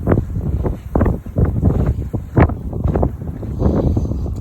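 Strong wind gusts buffet the microphone during an outdoor walk, a loud, irregular rumbling roar that surges and dips without pause.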